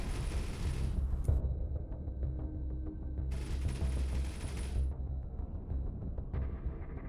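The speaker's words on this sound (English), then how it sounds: "hopefully my torpedoes can actually turn around and attack them" Space combat in the Avorion game with the eXtended Avorion mod: torpedoes strike enemy ships as a continuous rumbling barrage of crackling blasts and explosions, dense and loud with bright bursts that cut in and out.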